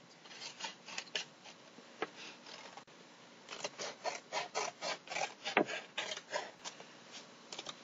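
Scissors snip through a paper mask template in quick rasping strokes, bunched into a fast run of cuts midway, close and dry with no talking.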